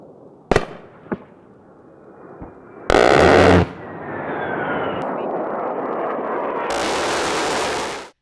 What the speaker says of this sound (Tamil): இதனுடைய துப்பாக்கி சுடும்போது ஏற்படக்கூடிய சத்தம்ங்கிறது போர்க்களத்தில் மிகவும் புகழ் பெற்றது